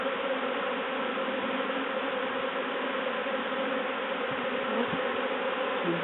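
A swarm of bees climbs up a sheet into a top bar hive, a dense, steady buzzing hum from many insects close by, continuous and alone.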